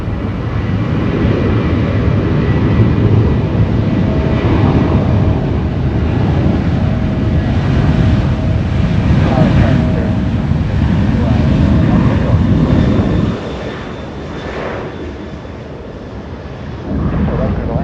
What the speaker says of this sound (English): an A321 flying in from Minneapolis, Minnesota